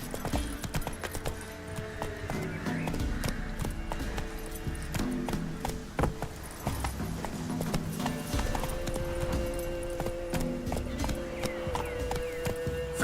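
Roach, a horse in a video game, gallops hard with rapid, continuous hoofbeats and an occasional whinny, over a dense, steady backdrop that lasts the whole time.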